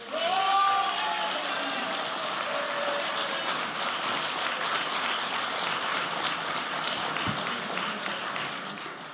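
Audience at a 2019 Southport election hustings clapping after a candidate's speech, a dense steady applause sustained for several seconds and slowly thinning toward the end.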